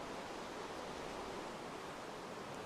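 Rain falls steadily in Minecraft (Feed the Beast modpack), a soft, even hiss of constant downpour that never lets up, fairly quiet and with no voices.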